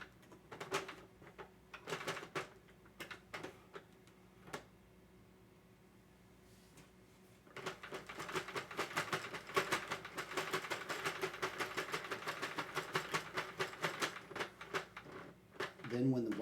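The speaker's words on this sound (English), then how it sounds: "you crank the machine around one entire loop to let these stitches fall off" A hand-cranked Sentro knitting machine turns one full loop while knitting a reversible beanie, giving a run of rapid close plastic clicks and ratcheting that thickens into a dense stream in the second half, with a voice talking at times.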